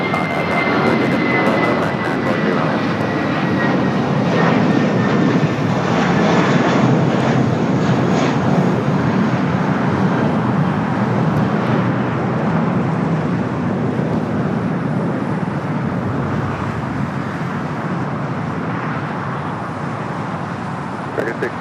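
An airliner taking off from runway 25 Right at LAX, a loud sustained jet engine roar with a faint high whine, steady throughout as air traffic radio talk runs over it.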